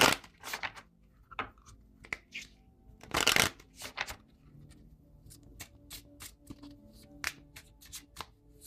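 Oracle cards from a Synchronicity deck are shuffled by hand up close, producing bursts of riffling and soft slaps with brief pauses between, fairly quiet overall.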